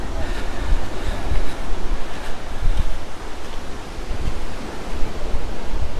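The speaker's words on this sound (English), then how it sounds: "And it looks like the lake is a little windy. Quite a few waves." Waves on a windy lake lap and wash continuously along the shore on a nature trail in a Wisconsin park. The surf merges with steady wind rumble against the microphone, loud and close, with no talking.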